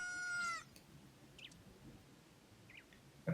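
Link, the child hero in Ocarina of Time, lets out a short rooster-like cock-a-doodle-doo crow, a voice imitating a rooster. It is a single bright, clear call at the very start, followed by quiet game sounds.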